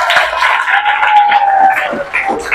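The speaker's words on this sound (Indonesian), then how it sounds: "tepuk tangan dulu dong" A classroom of young students at an Islamic school lesson claps together for a few seconds, a dense, close burst of hand claps with voices mixed in.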